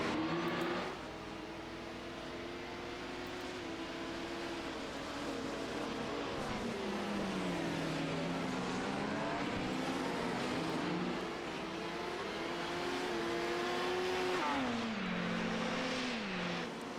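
LMP1 sports prototype race cars run nose to tail on a circuit, engines droning loudly and continuously with rising and falling pitch as gears change, no talk heard.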